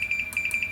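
Multimeter continuity beep while probing ground on an arcade monitor circuit board, a steady high-pitched electronic tone pulsing rapidly and close, alone without talk.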